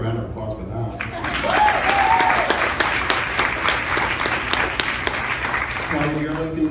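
Audience applause at a Grey's Anatomy cast panel at EW PopFest in October 2016: a sustained, loud wash of clapping with scattered cheers, and voices speaking as it begins and again as it fades.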